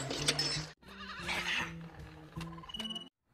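Sheep in the animated film Toy Story bleat several times in close succession, loud and near, with short gaps between the wavering cries and a brief silence partway through.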